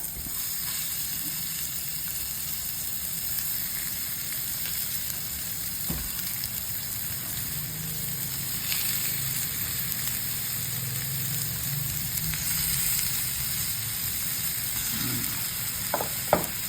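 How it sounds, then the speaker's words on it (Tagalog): Tilapia fillets laid into a hot pan over garlic, onion and ginger for a tamarind-soured fish stew sizzle in a continuous hiss, with a few faint clinks and scrapes and no talking. "Latagyan natin yung ating mga tilapia."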